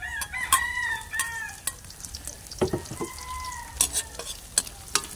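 Garlic, ginger and onion sizzle in a pan while a utensil stirs and scrapes in short bursts, and a rooster crows in the background.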